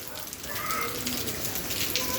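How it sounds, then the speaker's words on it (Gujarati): Heavy rain pours down on a village in Chhara, a dense steady wash of falling water that fills the whole stretch at an even, moderate loudness, with no voices over it. "અત્યારે વરસાદ જોરદાર વરે છે"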